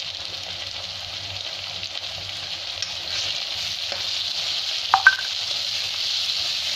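Ginger garlic paste and turmeric frying in oil in a pan, a steady close sizzle with a low background hum and a couple of brief metallic clinks near the end, with no talking.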